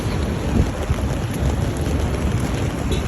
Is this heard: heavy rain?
yes